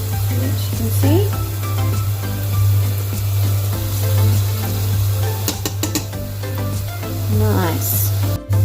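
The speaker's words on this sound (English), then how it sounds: "coat it up, and pop it in the hot oil" Sugar-coated banana sizzling in hot oil, a steady frying crackle over a low continuous hum, with occasional clatter and a brief voice near the end.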